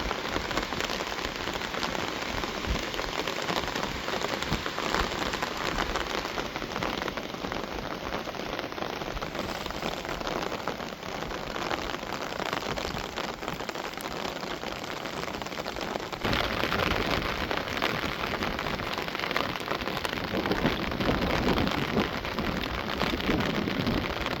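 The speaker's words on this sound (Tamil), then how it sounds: "பூமி நல்லா நனைஞ்சிட்டு நல்லா அடித்து ஊற்றுச்சுங்க ஃபஸ்ட்டு மழை" Heavy rain pours down continuously, a dense, even patter hammering on surfaces with no voices.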